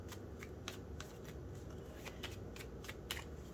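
A deck of playing cards is shuffled again and again, giving soft, quick riffling bursts in an irregular rhythm. The sound is fairly quiet and close, with no talking.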